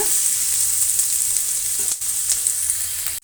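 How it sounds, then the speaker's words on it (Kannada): Vegetables and onion frying in an open, uncovered pan for vegetable tamarind rice, giving a loud, continuous close sizzle with one brief clack of a utensil partway through and no speech. "ಈಗ ನಾವು ಪ್ಲೇಟನ್ನು ಮುಚ್ಚೋದು ಬೇಡ ಹೀಗೆ ಫ್ರೈ ಮಾಡ್ಕೊಳ್ಳೋಣ"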